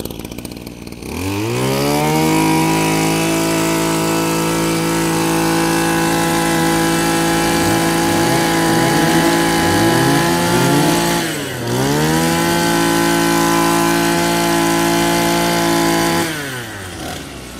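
A Mitsubishi TL26 26cc brush cutter engine with a 33 mm bore revs up loud and close, holding high-pitched screaming throttle with quick blips and a brief dip before revving again.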